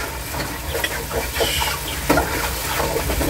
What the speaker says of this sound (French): On va bien remuer le tout.